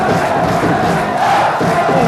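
Home supporters cheer at a Thailand Division 1 football match between Sisaket and Customs: a dense, loud, sustained roar of a stadium crowd with a continuous wash of many voices.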